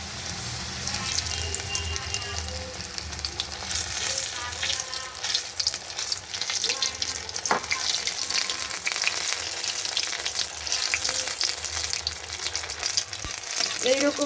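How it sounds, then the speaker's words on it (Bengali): A spiral-cut radish, stretched out like a spring, fries in oil in a wok with a loud, constant crackling sizzle and a few clinks and scrapes, and no voice over it. "এবারে এটা আমি কিন্তু এরকম টান করেই কড়াইয়ের মধ্যে দিয়ে দিলাম"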